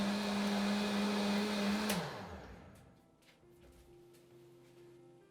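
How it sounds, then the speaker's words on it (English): A blender pulverizes soup poured over dog food with a loud steady whir that winds down and stops, leaving a faint hum from the motor. "So it'll be completely pulverized and emulsified inside the blender."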